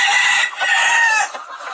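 A rooster and a hen cluck and call close up, loud and continuous, their harsh voices rising and falling with short breaks between phrases.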